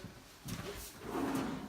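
A kitchen warming drawer slides open or shut, a soft rolling rumble followed by a low muffled thump, faint and close in a quiet room.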